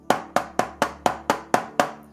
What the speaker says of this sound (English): This simple stroke or beat is known as a single stroke roll.